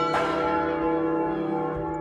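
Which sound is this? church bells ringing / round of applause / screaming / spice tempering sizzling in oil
church bells ringing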